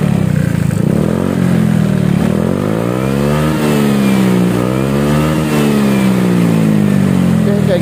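Honda Beat scooter fitted with an SKR Racing performance exhaust muffler, revving up and down in smooth, soft rising and falling sweeps, loud and close, with a voice talking over it.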